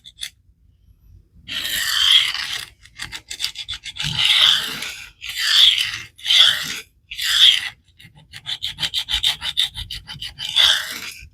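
A CPM S3 steel knife being sharpened on a 120 grit resin-bond diamond stone, heard as a series of close, loud raspy strokes in bursts of varying length, separated by brief pauses.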